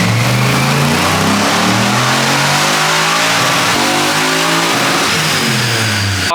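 An LS-swapped BMW E46 revs hard on a dyno, engine note climbing and holding loud and close with steady harmonic roar and some shifts in pitch, no talking.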